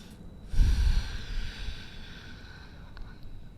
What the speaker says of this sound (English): You're going to take one deep breath here.